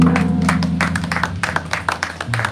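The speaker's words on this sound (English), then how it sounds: "Wow, round of applause." Audience applause breaks out at the opening ceremony of the Indonesia Mini Expo 2023 right after a starting gun count; dense, steady clapping continues throughout with a low hum underneath.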